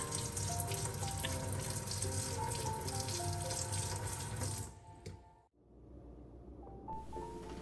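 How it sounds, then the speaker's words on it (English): Frozen shrimp rinsed under a running kitchen tap, a steady rush of water splashing into the sink for about five seconds before the flow cuts off, then faint trickling. "let's give them a quick rinse, then gently squeeze all the water out"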